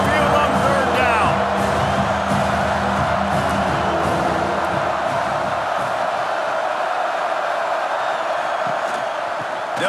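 Stadium crowd roaring during an Alabama vs LSU college football game, a dense, continuous wall of loud noise on third down that holds steady for the full stretch with faint announcer-like voices mixed in.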